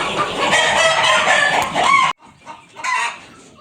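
Adler Serebro chickens cluck and crow loudly and close by, a dense, continuous flock chorus that breaks off briefly and then returns more sparsely.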